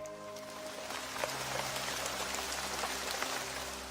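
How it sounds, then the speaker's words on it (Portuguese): Light rain falls steadily on a surface, a soft even patter with scattered close drops, used as a background effect in a fantasy audiobook, with a faint low hum underneath and no voices. "caía uma chuva leve"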